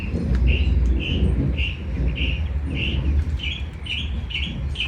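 Small birds chirp in a backyard garden, a repeated bright tweet recurring every half second or so, moderately near, over a steady low rumble of background noise.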